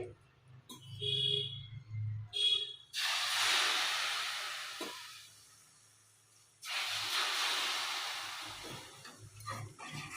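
Hot Mysore pak mixture sizzles and hisses as oil is added, in two long, steady bursts with short quieter gaps between them.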